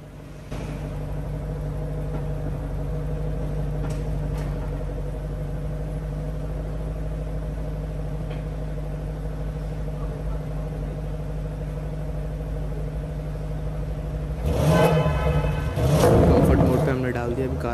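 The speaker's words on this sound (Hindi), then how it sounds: "पहले आपको इसका एग्जॉस्ट भी सुना लेते हैं" A 2021 Audi RS6 Avant idles with a steady, deep rumble throughout, then the exhaust swells into a louder, rougher rev near the end.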